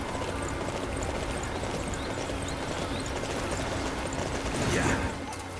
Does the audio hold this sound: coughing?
no